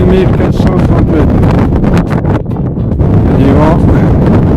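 Wind blows across a mountainside at 2430 metres, a loud, continuous buffeting rumble that briefly eases midway before surging again.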